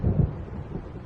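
Low, rolling thunder from a storm in the video game Alan Wake Remastered, strongest in a heavy rumble at the start and then settling into a steady, muffled drone with no voices.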